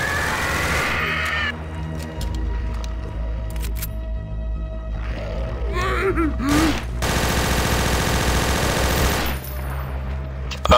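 Gunfire in Counter-Strike: Source zombies, loud bursts of automatic fire and scattered shots over a steady low game drone, with the densest rattling in a long burst midway; no clear speech.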